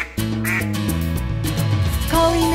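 A goose honks over a bouncy children's song, its cartoonish, nasal calls mixed into the music with steady backing instruments throughout.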